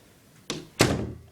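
A door is pushed during a torque demonstration: two dull thunks of the door moving and knocking, the second louder and followed by a short resonant rumble, close by with no talk.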